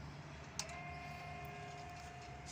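Automatic coop door for turkeys and geese, with its small motor running to lower the door. After a sharp click, a steady, faint, tonal whine drones on evenly, close by.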